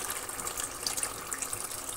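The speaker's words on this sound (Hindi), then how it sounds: "ये देखिए ये पानी डोल दिया मैंने इसमें जितना हमें शोरबा चाहिए।" Water is poured into a pot of turnips cooking for a shorba curry, giving a steady close splashing gush that lasts throughout without talk.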